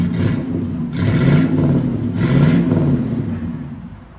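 A 1980 Mercedes 450SEL with a 4.5-litre V8 and a Borla Pro-XS exhaust revs up close in three quick, loud blips, each swelling and falling back to a rumbling idle.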